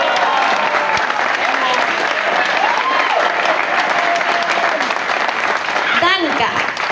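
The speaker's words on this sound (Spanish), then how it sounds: "Un fuerte aplauso para Marco Treviño." Steady, loud applause fills a crowd at an official clapperboard event for a Mexican telenovela, continuous for several seconds with voices and cheers mixed in and a sharp whistle or shout near the end.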